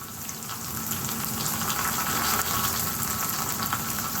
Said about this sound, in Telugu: ఒక స్పూన్ జీలకర్ర వేస్తున్నానండి